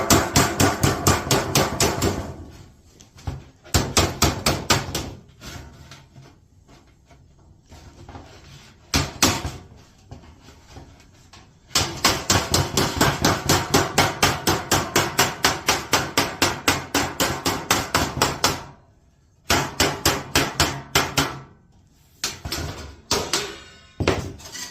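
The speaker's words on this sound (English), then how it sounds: "And you're just going to beat that over." A regular hammer beats over a metal HVAC fitting with a 1/2 inch tool set inside it. The blows come close and loud in long, fast, rhythmic runs, with brief pauses between bursts.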